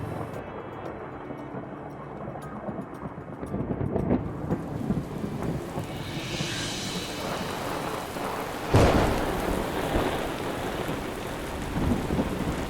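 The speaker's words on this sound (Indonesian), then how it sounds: "Duh, hujan lagi." Steady rain pours down outdoors in an Indonesian drama scene, a dense, continuous hiss with deep rolling thunder rumbling through and a sharper burst partway in.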